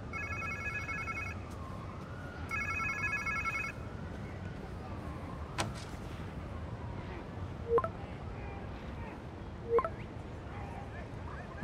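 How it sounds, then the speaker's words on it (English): A phone rings in the Spider-Man 2 video game, two bursts of electronic ringing early on, then quieter ambient game sounds with a few sharp clicks and hits. "Sounds like somebody's phone."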